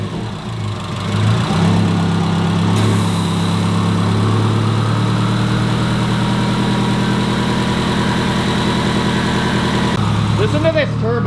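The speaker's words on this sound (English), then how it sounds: "Listen to this turbo." An STI-swapped Subaru WRX idles with a steady low engine drone and a whistling turbo tone riding on top, held constant and close for about eleven seconds, with a brief shift near the end.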